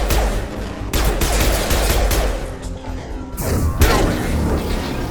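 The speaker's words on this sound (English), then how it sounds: "We've been spotted. Firing." Rapid gunfire in a firefight against mechs inside a Cerberus station in the video game Mass Effect 2 comes as loud, sustained bursts of shots and blasts, with a few brief lulls.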